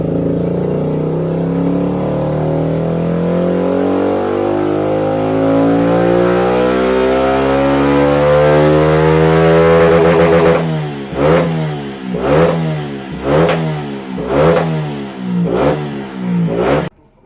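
A Yamaha 125 YZF track motorcycle engine on a dyno climbs in a long, steady rev, pitch rising for about ten seconds, then breaks into a run of sharp, loud throttle blips that rise and fall.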